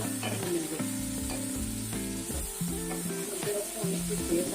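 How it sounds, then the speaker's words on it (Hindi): One kilo of mutton karahi frying on high heat in a wok-like pan, a dense continuous sizzle with rhythmic clanks and scrapes of a spatula stirring close up, no talking. "हमने इसको शामिल कर दिया कढ़ाई में और इसको तेज आंच पे मिलेंगे।"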